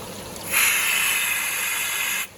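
Air hisses out of an oxygen aerator in a tank of grouper fry, a close, steady rush that starts abruptly, holds for nearly two seconds and cuts off sharply, heard alone without talk.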